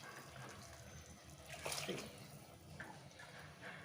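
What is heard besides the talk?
hot water being poured into a cooking pot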